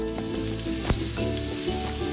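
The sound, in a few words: pounded dried shrimp ingredients stir-frying in oil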